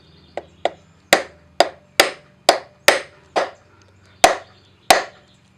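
A screwdriver used as a punch is tapped against a car wheel, about ten sharp, loud metallic knocks in an irregular series, each ringing briefly before the next, with no talking.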